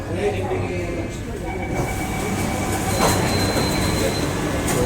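An underground metro train rumbles steadily along near Dharavi station in Mumbai, wheels squealing faintly now and then, with a voice speaking over the noise.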